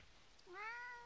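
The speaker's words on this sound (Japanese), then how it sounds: "今ニャーニャー言ってるけど" A hungry cat gives a single rising and falling meow, fairly clear and close in a quiet space inside a car, with no other sounds around it.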